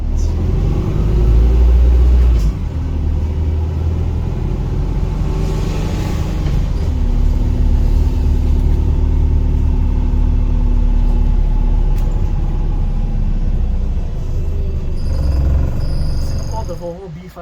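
Cabin ride on a 2011 double-decker bus with Wright Eclipse Gemini 2 bodywork: a constant loud engine rumble and drone with shifting gear tones, with voices talking over it.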